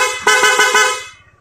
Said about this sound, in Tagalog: Okay, so loud horn with passing.